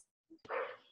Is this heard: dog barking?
yes